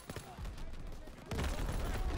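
Rapid bursts of rifle and machine-gun fire from a World War II shooter game, Call of Duty WW2, crackling continuously and growing denser and louder partway through.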